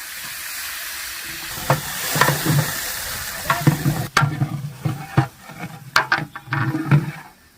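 Onion, coconut and garlic paste frying in hot oil in a large pot for a village-style mutton curry, steady close sizzle with repeated scraping stirs and clanks throughout.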